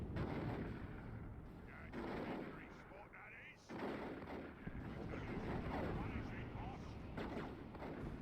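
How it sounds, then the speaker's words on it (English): Dense battle din of gunfire and artillery from the Dawn of War 2 Retribution strategy game, continuous rumbling booms and crackling shots throughout, with a commentator talking over it. "Catachans shooting down generators."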